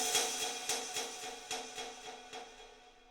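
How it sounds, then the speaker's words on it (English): An industrial percussion one-shot called Anvili from a synth design card rings out with a metallic clang, followed by a string of delayed repeats that fade gradually over about three seconds, quiet and alone. "It's just kind of a industrial sounding percussion one shot going through a bit of a delay here"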